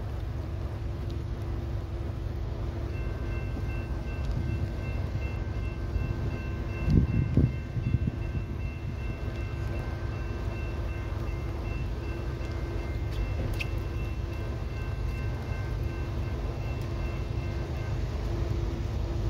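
A northbound CSX mixed manifest freight train on track two at night, a steady, moderately distant rumble with a faint sustained tone and a brief clank partway through, no talking.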